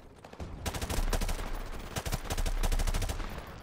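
Rapid gunfire from Call of Duty Modern Warfare Remastered, with loud, dense bursts of automatic shots and sharp single cracks overlapping continuously for several seconds, no voices.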